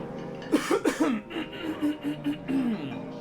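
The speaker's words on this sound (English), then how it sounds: "Hang on, I gotta clear my throat" A man clears his throat several times in quick, rough bursts close to the microphone, followed by a few short murmured sounds.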